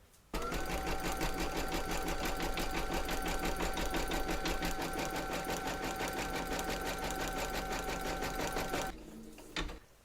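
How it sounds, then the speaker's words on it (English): Embroidery machine stitching a placement outline for a Christmas table runner, running loudly and steadily for about nine seconds with a rapid needle rhythm, then stopping with a few faint clicks. "Then you're going to pop your hoop in and stitch round number 1"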